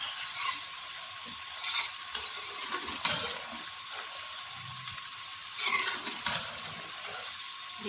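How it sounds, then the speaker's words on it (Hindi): Aloo gobhi, potato and cauliflower pieces, being stir-fried in a pan to dry off its water, with a steady soft sizzle and occasional scraping stirs, close and continuous. "अब हम इसका पानी खुश्क करके इसको भून लेंगे।"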